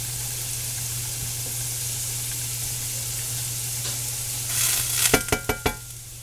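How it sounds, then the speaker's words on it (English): Water poured into a hot pan to deglaze the browned bits, a steady hiss and sizzle building toward the end, with a few sharp scraping and stirring strokes in quick succession. "add some water to it. And you'll get all that stuff off the bottom."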